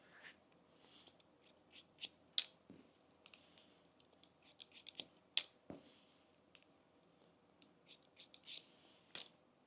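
Steel scissors snip through a man's mid-length hair during a classic haircut, giving many crisp, close, irregular cuts in quick clusters with short pauses between them and no talking.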